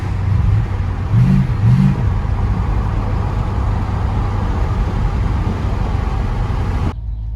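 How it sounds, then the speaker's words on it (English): A stock Chevrolet El Camino classic car cruises with a steady, close engine drone and a couple of brief revs early on, then the sound cuts off abruptly near the end. "take your classic car out on a beautiful day and just cruise around"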